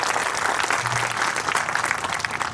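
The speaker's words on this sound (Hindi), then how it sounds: "एक बार अपने जोरदार ताली से स्वागत करिए।" An audience claps loudly at an agricultural crop show event, a dense, steady burst of applause filling the whole moment from start to finish.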